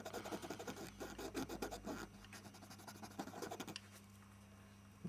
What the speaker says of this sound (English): I'm going to rub the whole lot like that